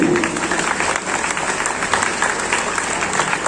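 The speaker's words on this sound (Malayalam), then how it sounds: "നിറഞ്ഞ കയ്യടി" A large audience at a church anniversary gathering claps in a loud, steady round of applause that holds throughout without a break.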